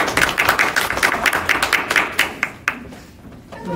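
Classroom applause at the end of a lecture, a dense run of fast hand claps that fades out after about three seconds, leaving a faint room murmur.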